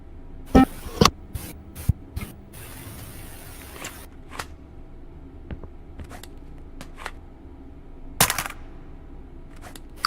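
Sharp gunshots from a firearm loaded with plus-P incendiary tracer rounds, a few loud separate reports with quieter clatter and handling noise between them.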